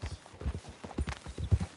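Horse hooves clip-clop in the Red Dead Redemption video game at a steady walking rhythm, fairly quiet and close, with faint background ambience.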